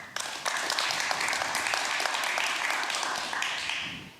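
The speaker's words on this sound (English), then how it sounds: "Applaud for North Dakota." An audience at a talk applauds for North Dakota, producing a burst of scattered hand clapping that starts abruptly, holds steady and then tapers off near the end.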